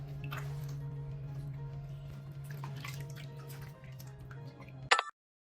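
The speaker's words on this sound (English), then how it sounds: "we're gonna first take our wet rag, get some water on it, and we're gonna gently go over his face." Water drips and squishes from a wet rag while a cat is being washed, a few soft close wet sounds over a steady low hum, ending in a brief louder splash.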